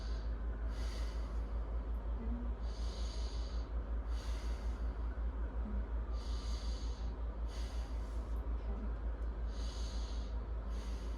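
A patient takes slow, deep breaths in and out during a head-to-toe health assessment, each breath a soft rushing swell repeating about every two seconds over a steady low hum, with no talking.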